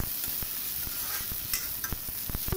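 Dry fish frying and being stirred in a pan for a dry fish chutney, with a steady sizzle and repeated sharp scrapes and clicks of the utensil against the pan, close up.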